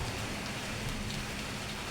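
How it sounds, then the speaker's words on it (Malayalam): Summer rain just starting in a garden, a faint, steady patter of drops spread evenly with no other sounds. "മഴ അങ്ങോട്ട് തുടങ്ങി വരുന്ന ഒരു സമയമാണ് കാണുന്നത്"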